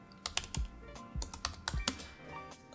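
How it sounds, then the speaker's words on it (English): Quiet, irregular clicks of a computer keyboard as a command is typed into an Ubuntu terminal, a short burst of close keystrokes with brief pauses and no talking. "by typing Firejail"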